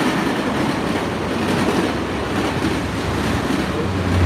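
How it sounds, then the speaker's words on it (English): A train rolls past Santa Clara Tower, a sustained loud rumble of railcars with faint wheel clatter filling the whole stretch, no voices over it. "The train goes by"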